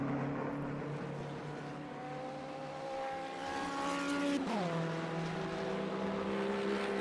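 Several GT3 race cars in a racing game at Red Bull Ring, engines roaring steadily with harmonic whines, one sweeping downshift as a car brakes, loud and continuous with no talk.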